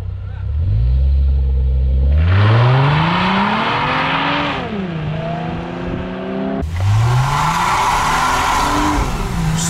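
A Toyota Crown 3.5 accelerates hard from a race start, its engine climbing in pitch through rising revs with audible gear shifts and tire noise. It is loud and close, with voices underneath.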